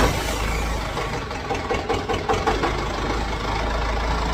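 A Kubota M7040 tractor engine idles steadily just after a full service, a low, even diesel rumble with a slight knocking texture, close by and with no one talking.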